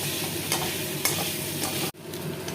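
Chopped onion and chicken fry in a hot pan with a loud, continuous close sizzle, a few stirring scrapes, and a brief sharp drop in sound near the end before the frying hiss resumes.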